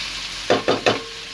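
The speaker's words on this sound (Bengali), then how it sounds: "তাই সব কিছুর সঙ্গে মিশিয়ে একসাথে ভাজাটা শুরু করলাম।" Potatoes frying in oil with turmeric and salt, three quick scraping stirs in a row over a soft background sizzle, close and loud, with no voices.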